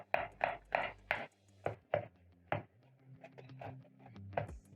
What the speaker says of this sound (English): I'm going to dice 3 cloves of garlic.